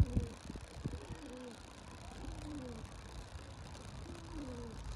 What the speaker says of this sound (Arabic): شوف شوف شوف يا ولد، جاي قر عليها